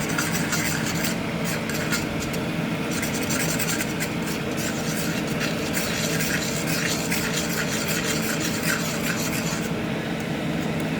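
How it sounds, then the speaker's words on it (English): A spoon stirring fettuccine Alfredo sauce with parsley in a pan on the stove, a continuous close scraping and rubbing over a faint sizzle, steady and unbroken with no speech. "we're going to stir it around, make sure it's nice and mixed"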